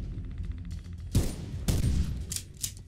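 Gunfire in the video game Bigfoot, set in Yellowstone National Park: a few loud, close shots with rolling echoes, spaced irregularly over a low rumbling background, followed by two fainter sharp cracks.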